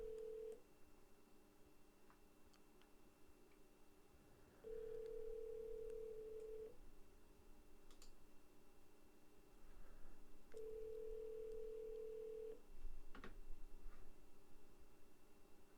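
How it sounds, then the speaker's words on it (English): An outgoing phone call rings back through a handset, with faint, evenly spaced two-second ring tones separated by quiet gaps under low background hiss. "It's dialing. Second ring."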